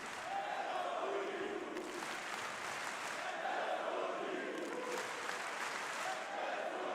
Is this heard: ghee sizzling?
no